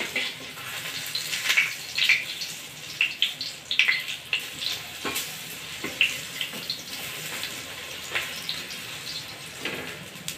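Alu vadi, taro leaf rolls, frying crisp in oil in a pan, giving a steady close crackling sizzle with scattered louder pops and spits throughout.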